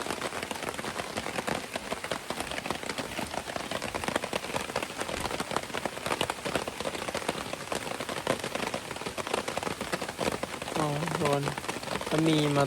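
Steady rain falls while the sun is out, a dense, continuous patter on surfaces at a forest camp that swells slightly toward the end.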